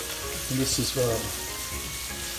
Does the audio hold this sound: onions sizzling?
yes